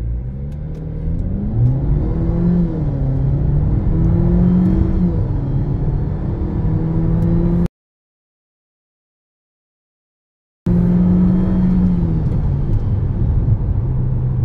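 A 2024 GAC GS3R accelerates hard from a launch, its mid-pitched engine revving up and shifting in a loud, steady rising drone, cut by a brief silent gap before the run continues.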